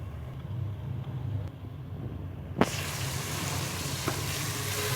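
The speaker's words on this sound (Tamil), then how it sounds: "தயிர் சேர்த்துட்டு நல்லா வணக்கிடலாம்" Biryani masala sizzling in oil in a pressure cooker, a steady close frying hiss that turns suddenly brighter and louder when yogurt is added partway through, with no talk.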